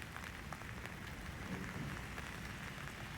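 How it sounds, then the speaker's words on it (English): Heavy rain falls hard all around outdoors, a dense, steady patter of drops close by throughout, with no voices. "Rain everywhere. Hard."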